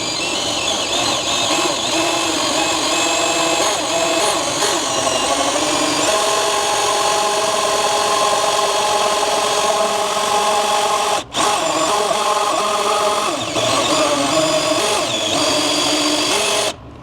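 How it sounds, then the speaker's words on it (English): A power drill whines continuously and loudly while boring a hole in a C5 Corvette during a manual pedal swap, its pitch wavering under load, with one brief stop near the end. "you will have to drill out this entire hole"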